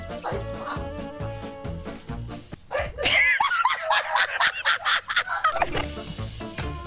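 Dog barks in an Among Us Tom and Jerry mod game, a run of loud repeated yips and barks in the second half over game music, with excited voices.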